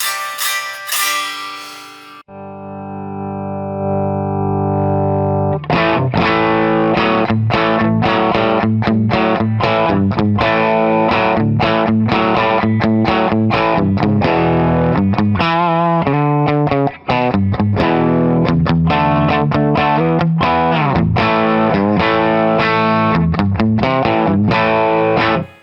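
Heavy distortion on a Chibson Les Paul copy electric guitar: a loud, close, sustained chord opening, then a long run of fast riffs and chord stabs that continue without pause.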